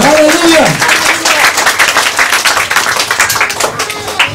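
Church congregation in the Philippines claps and applauds together, a dense, lively patter of many hands that fades somewhat toward the end, with a voice speaking briefly at the start.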